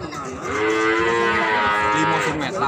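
A pregnant Limousin cow moos one long, loud, close bellow that swells and holds for over two seconds before tailing off, alone without talk.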